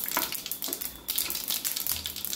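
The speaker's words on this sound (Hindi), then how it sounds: "इसका हम तड़का लगाते हैं जब तक ये चटकता है।" Coriander, cumin, mustard seeds, asafoetida and red chili crackle and sizzle in hot oil for a tempering, a dense, close spatter of pops with no voices.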